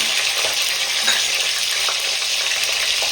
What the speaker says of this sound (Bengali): দেখুন বন্ধুরা, কত সুন্দর করে আমি লাল করে ডিমটা ভেজে নিচ্ছি